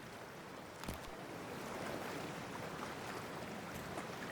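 A game character wading into freezing water in Cyberpunk 2077, with a steady rushing, sloshing wash of water and a brief splash near the start, continuous and fairly soft, with no voices.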